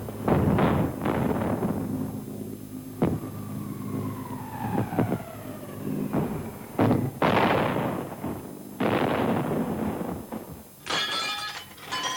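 A bomb explosion sound effect in a 1970 son et lumière show at Willesden Parish Church, with heavy booming blasts, crashing and shattering debris, and a falling whistle-like tone over a continuous rumbling roar.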